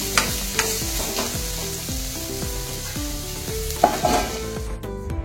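Food sizzles and fries in a pan while a spoon stirs it, with repeated soft scraping strokes over a steady crackle, heard close up and alone.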